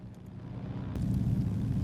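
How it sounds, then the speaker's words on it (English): A de Havilland DHC-2 Beaver's engine runs as a steady, low, close rumble that grows slightly louder partway through, with no voices over it. "The engine sounds pretty loud"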